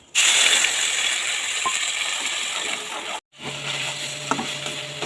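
Spice paste for Bengali doi katla hitting hot oil with dried red chillies, bay leaf and cumin, giving a steady bright sizzle that cuts out briefly and then resumes, with faint clinks from the pan.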